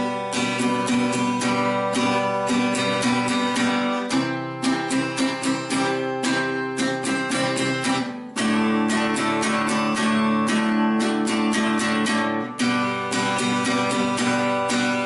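Rhythm guitar strumming a chord progression in a syncopated pattern, dense bright strokes repeating steadily and close, with brief pauses between chord changes and no voices.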